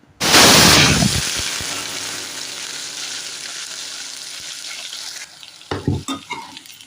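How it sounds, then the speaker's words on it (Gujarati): Onions tipped into hot oil with spluttered cumin seeds for a Gujarati whole-onion curry burst into a loud, sustained sizzle that slowly settles, followed by a few clattering stirs of a spoon near the end. "હવે નાખવાની છે ડુંગળી."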